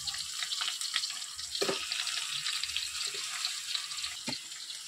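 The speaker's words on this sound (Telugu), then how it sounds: "ఇందులో కూడా చేప ముక్కలు వేసుకుంటున్నాను చేపల పులుసులోకి." Fish pieces frying with ginger in a pan for a fish curry, a steady soft hissing sizzle with a few faint clinks and taps, close and quiet, no talking.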